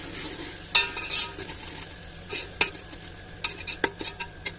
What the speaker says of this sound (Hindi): प्याज को हमने जो है वो गोल्डन ब्राउन कर लेना है।